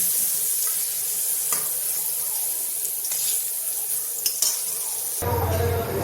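Mushrooms fry in a pan with a steady hissing sizzle, marked by occasional clicks and scrapes from stirring, before the sound shifts abruptly just before the end.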